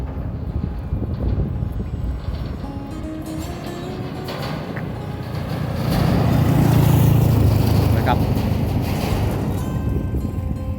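Vehicles cross a steel-plate suspension bridge in Doi Saket, Chiang Mai, giving a steady broadband rumble that swells louder midway and then settles, with a brief voice.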